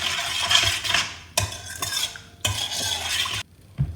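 Dry yeast, salt, sugar and oil being stirred into water for bread dough, a spoon scraping and clinking against a bowl in three close bursts with brief pauses between.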